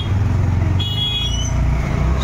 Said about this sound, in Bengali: ভীষণ জ্যাম এখানে